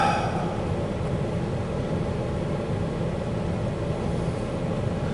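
A steady, dense rumble and roar of a CSX freight train, W751, running with empty rock cars, loud and continuous throughout with no breaks.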